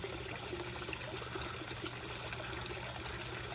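Water from a koi pond draining steadily through a partly failed fail-safe, a continuous broadband trickling wash at moderate level with no talk over it.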